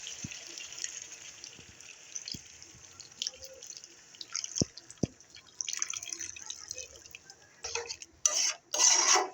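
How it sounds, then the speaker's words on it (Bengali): Water is poured into a pot of chicken meat being cooked down with spices, giving faint drips and splashes with a louder gushing pour near the end, close up in a quiet kitchen. "এখন আবার একটু কষানোর জন্য পানি দিয়ে দেবো"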